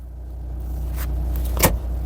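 A car with a semi-automatic gearbox that has a fault with N flashing, pulling away in automatic mode: a steady low engine hum runs throughout, with a short sharp mechanical click or clunk near the end.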